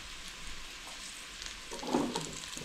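Sliced bell peppers hitting hot oil in a Bosch Cookit for chili con carne, a soft steady sizzle that swells into a brief louder burst of frying and stirring near the end.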